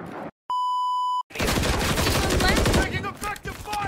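Gunfire in the video game Warzone on Modern Warfare III: a steady electronic beep tone, then loud, dense bursts of rapid automatic fire with in-game radio voice chatter overlapping.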